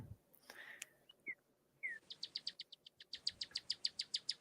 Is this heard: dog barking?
no